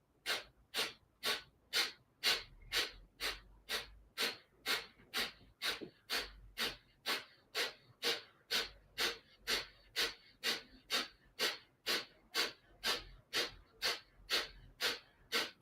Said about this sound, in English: you're going to join me in breath of fire